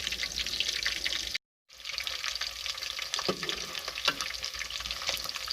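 Kebabs frying in a pan, a steady close crackling sizzle that runs throughout, briefly cut out once, with a few light knocks of utensils turning them.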